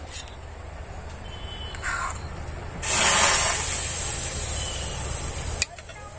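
Rice-flour batter for chitoi pitha poured into a hot pan, a soft background hiss that swells into a bright, loud sizzle for a few seconds before cutting off with a clack.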